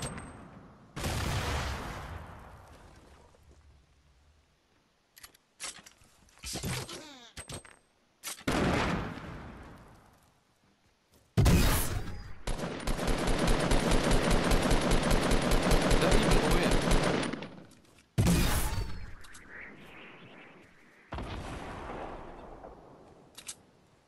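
Gunfire in the video game Fortnite: sharp single shots and short bursts, then a long sustained automatic volley, loud and close, separated by quieter gaps.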